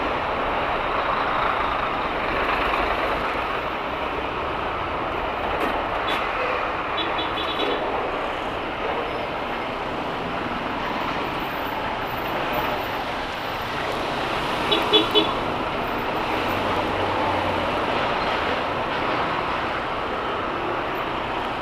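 Heavy truck traffic rolls along a busy Philippine boulevard, a steady rumbling roadway wash with brief horn toots mid-way, heard from inside a vehicle.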